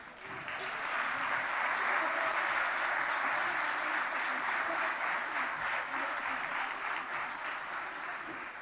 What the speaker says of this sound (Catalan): I el segon aplaudiment és per aquests nois que tenim a la Coral Gran.